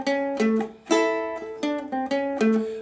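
A ukulele plays a rock and roll blues boogie riff in A, with plucked notes that include a low note. The phrases repeat in a steady bouncing rhythm, close and clear, with no voice.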